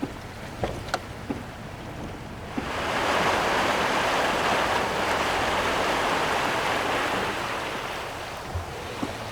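Loud rushing floodwater swells in after a few seconds and roars steadily over a road, broad and powerful, with a few clicks and knocks before it.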